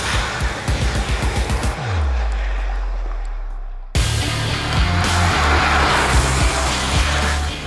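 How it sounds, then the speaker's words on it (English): A Mahindra Thar RWD 4x2 diesel with manual gearbox drives on forest trails, its engine rumbling with bumps and rattles, then a rising drone that fades before the loud, rough engine noise returns. "it was time to take this new Thar off the road. First into unknown forest trails."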